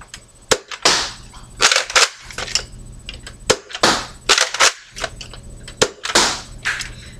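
A Nerf Retaliator blaster shoots glow-in-the-dark streamline darts: sharp, close snapping shots fired singly and in quick pairs, about a dozen over several seconds, with no talking.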